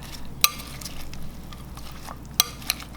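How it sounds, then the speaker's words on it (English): Cucumber salad being tossed with dressing in a bowl gives soft, wet stirring and rustling, broken by a few sharp clinks of a utensil against the dish, close and fairly quiet with no talk. "Put it all on top. That would be really good. And mix everything well together."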